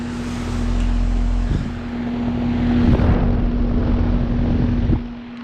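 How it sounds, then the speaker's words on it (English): A 2008 Goodman GSH13 heat pump with a scroll compressor exits defrost with steam, giving a steady low hum with a tonal drone under whooshing airflow, a few soft thumps, and a drop in level near the end. "I literally just walked up on this thing and I happened to catch a defrosting"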